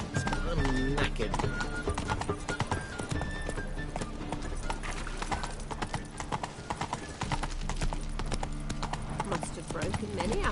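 Roach the horse gallops in The Witcher 3 video game, with steady, close hoof clip-clops and a whinny early on, under ongoing character dialogue and game music.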